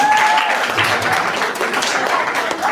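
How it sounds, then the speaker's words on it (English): An audience at a school inter-house quiz and debate claps loudly and steadily throughout, a dense, close wash of applause. "A round of applause for middle school again."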